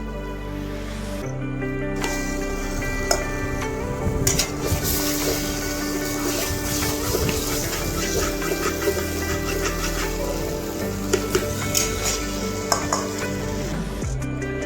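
A thick mash of potato, beet and carrot sizzles in a pan of spice mix while it cooks down, a steady frying hiss broken by the repeated scrape and clink of a stirring spoon against the pot.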